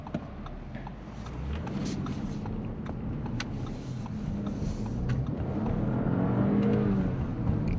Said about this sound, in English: Given enough revving up, the V6 sings beautifully